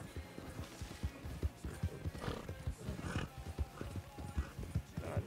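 Horse hooves clip-clop at a steady trotting rhythm in a Western video game set in Alabama, close and clear, with scattered faint background noise under the repeated beats.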